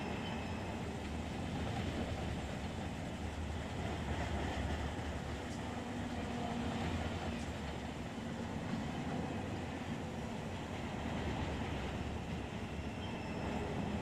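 A long intermodal freight train in the Run 8 simulator, in notch 8 at about 22.5 on a 1.9% grade, gives a steady, dense rumble with rail noise that holds evenly throughout, with no talk.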